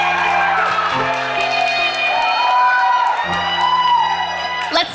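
Wedding guests cheer and whoop during a Korean American pyebaek ceremony at the Ace Hotel, with loud shouts and yells layered over sustained instrumental music.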